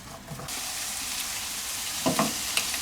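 Ingredients are stir-fried with a spatula in a hot pan for a Chinese dish, a constant close sizzle broken by a few sharp scraping strokes near the end.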